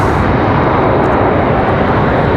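An Endeavor airliner arriving from Indianapolis at Raleigh-Durham International Airport gives a loud, steady, unbroken engine roar that stays close and constant throughout.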